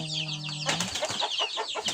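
Roosters squabbling at close range: a harsh crowing call breaks into rapid clucking and squawking bursts with wing flaps, loud and agitated, over about two seconds.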